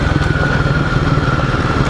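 Royal Enfield Guerrilla 450 motorcycle engine while riding, a loud close, steady throbbing thrum with a rapid even pulse and a slight mechanical clatter.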